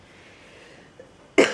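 A single sharp cough bursts out close and loud at the very end, after a stretch of quiet room tone with a faint small click just before it.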